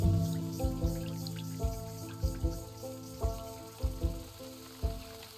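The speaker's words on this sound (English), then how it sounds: "Because it's raining, because we're in the swamp currently." Rain falling in a swamp in the video game Wytchwood, heard as soft, steady patter with irregular louder drops and splashes that land every half second or so, under a quiet background, with no voices.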